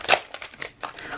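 Packaged stickers tipped out of their packaging: a quick crinkly rustle of plastic and paper followed by a few softer scattered crinkles and taps, close and quiet.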